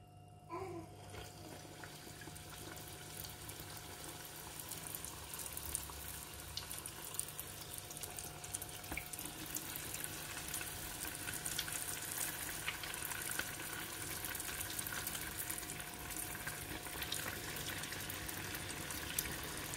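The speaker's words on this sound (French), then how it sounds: "Donc on va procéder à la friture." Beef and feta spring rolls deep-frying in hot oil, a steady broadband sizzle and bubbling that holds at an even level for about twenty seconds, close up and with no talk over it.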